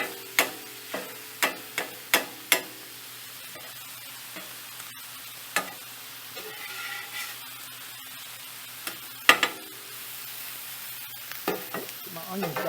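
Meat and onions fry in a pan for cheeseburger egg rolls, a steady sizzle broken by a run of sharp utensil clacks and stirring scrapes early on, with scattered knocks later.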